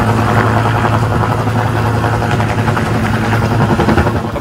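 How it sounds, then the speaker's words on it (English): Utility helicopter working on fire-hardening power line replacement in a Colorado town, a loud, steady rotor thrum with low engine drone, close and continuous with no talk. "So we use the helicopter to speed the process up"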